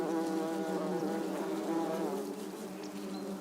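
Bees inside a hive in Heidelberg, a dense, close buzzing hum with steady harmonic drone that fades slightly toward the end.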